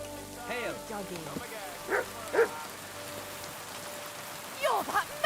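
In Kingdom Come: Deliverance 2, a dog gives a few short barks and yips at medium distance over steady rain, with a voice speaking briefly near the start.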